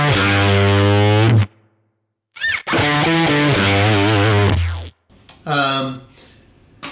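An electric guitar runs through a fuzz pedal for thick, sustained distorted tones and ringing harmonics. Long held notes are broken by short gaps, loud and close, and a voice seems to cut in near the end.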